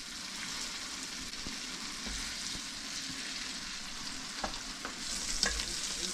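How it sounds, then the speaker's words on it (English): Pieces of whitetail deer heart fry in a pot, a steady close sizzle with occasional sharp pops and the scrape of stirring, growing slightly louder toward the end. "wait till that piece gets nice and crispy"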